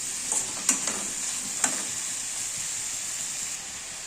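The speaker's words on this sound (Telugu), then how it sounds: "అరటికాయ ముక్కలు వేసుకోవాలి. కొంచెం సాల్ట్ వేసుకొని బాగా కలుపుకోవాలి." Raw banana pieces with salt are stirred in a pan. A few clinks and scrapes of a spoon come early over a soft, steady frying hiss, and then only the faint hiss remains.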